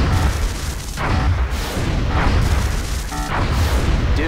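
Repeated booming blasts and rumbling impacts from a missile striking an interceptor craft in XCOM, dense and continuous across the clip with several sharper bursts.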